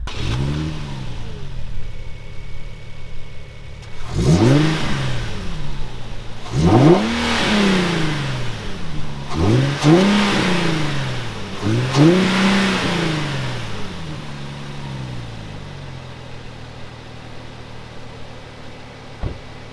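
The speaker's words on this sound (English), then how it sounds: "And that's what the engine sounds like." Near and loud, the 2012 Infiniti G37 coupe's V6 rises through four sharp throttle blips, each sweeping up and falling back, before settling to a quieter idle.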